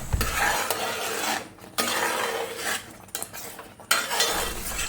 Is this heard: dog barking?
no